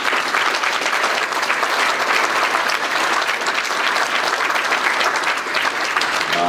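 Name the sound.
audience applause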